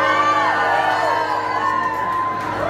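A concert crowd at a live show in Boston cheers and whoops loudly, with overlapping high shouts and yells rising and falling across the whole stretch.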